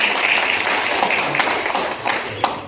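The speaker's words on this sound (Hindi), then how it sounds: "ताली बजाकर स्वागत करें" Audience applause at a journalism award ceremony honouring a memorial press prize, a dense continuous clatter of many hands clapping at close range that thins slightly toward the end.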